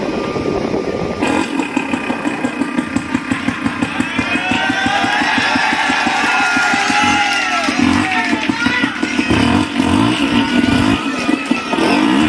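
A man on a comedy talent-show stage imitates a motorcycle engine with his voice: a quick start, then a steady, close, rhythmic putt-putt idle that swells into revving sputters.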